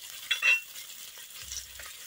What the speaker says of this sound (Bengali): আদা রসুনটাকেও আমি পেঁয়াজের সঙ্গে ভালো করে একটু ভেজে নেব।